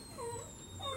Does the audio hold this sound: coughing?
no